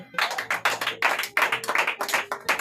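A church congregation claps in a quick, regular rhythm that is loud and close, with no talking over it.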